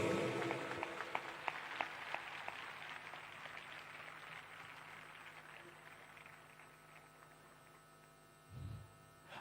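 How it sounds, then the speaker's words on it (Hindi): A church congregation applauding: a broad wash of clapping hands that starts fairly strong and slowly fades out over a low steady hum, ending almost in silence. "अब इससे अच्छी सबसे ब्यूटीफुल ताली दीजिए यीशु मसीह को।"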